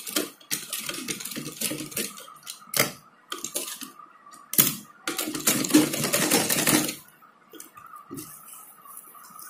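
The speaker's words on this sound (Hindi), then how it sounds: "मैं सिलाई लगा के आपको दिखा देती हूँ कि इसमें सिलाई कैसे लगाएंगे" A sewing machine stitches piping cord onto fabric in several quick mechanical runs separated by short pauses, with steady, close rattling and no talking.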